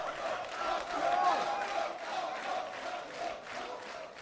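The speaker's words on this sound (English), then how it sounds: "On l'applaudit, allez!" A crowd at a Guilty Gear Strive tournament cheers and claps steadily throughout, a dense wash of voices and applause at a fairly even level.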